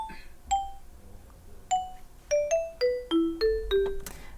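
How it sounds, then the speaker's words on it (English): Xylo marimba notes from a General MIDI sound font, about ten short bell-like tones with very brief decay forming a descending melody at moderate volume, heard alone with no voices. "next melodic element is this Xylo marimba"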